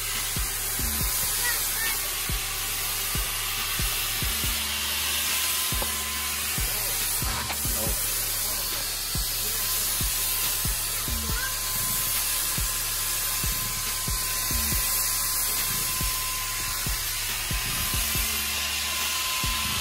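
Midnight blue Plasti Dip sprayed onto the bumper of a cammed Dodge Charger, a continuous close hiss of aerosol spray running throughout, with an engine-like rumble and scattered clicks beneath.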